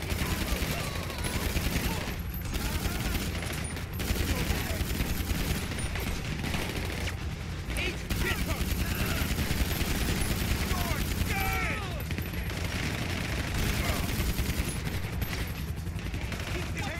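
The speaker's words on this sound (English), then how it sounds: "Time to use that pistol." Pistol shots and gunfire in the video game GTA V, dense bursts of loud shots popping repeatedly over a busy in-game soundscape, with some voices mixed in.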